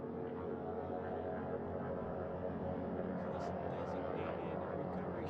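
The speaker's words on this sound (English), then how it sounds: "The first helicopter coming in." A helicopter approaches the flight deck of a recovery ship at sea after the Artemis II splashdown, heard as a faint, steady rotor and engine hum far off beneath continuous narration.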